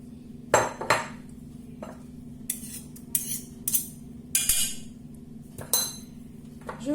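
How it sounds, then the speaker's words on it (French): A spoon clinks and taps against a bowl while tomato paste is scooped into a yogurt marinade for oven chicken and vegetables, producing scattered sharp metallic knocks and scrapes over a faint steady hum, no voices. "Je vais mettre ma cuillère de concentré de tomate"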